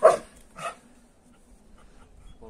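A Dutch Shepherd on alert gives two sharp barks close by, a pause between them, then faint background sound.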